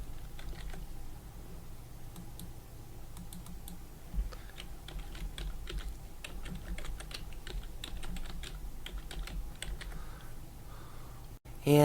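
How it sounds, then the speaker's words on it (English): Quick, irregular keystrokes on a computer keyboard, typed steadily at close range over a low background hum, with no talking. "So I'll just type that in."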